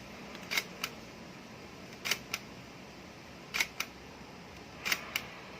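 Faint mechanical shutter clicks from a Fujica Z800 film camera in single-frame mode, four double-clicks spaced evenly about a second and a half apart, over quiet background hiss.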